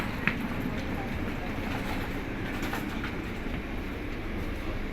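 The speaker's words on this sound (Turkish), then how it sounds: "Trene bindik anne." Passenger train ride with steady rumbling rail noise and faint clickety-clack of the wheels, heard from inside a carriage, continuous and moderately loud with a brief click near the start.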